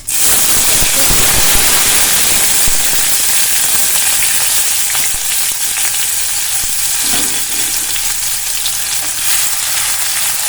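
Finely chopped green chilies and a medium onion sizzle in hot oil over a medium gas flame, a steady loud crackling hiss with a few spatula scrapes, close and continuous with no talk.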